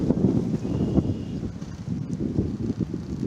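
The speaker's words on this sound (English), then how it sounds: "On a very windy day." Gusts buffet the microphone on a very windy day at Argyle Lake, a rough, uneven low rumble that surges and dips throughout with no talking.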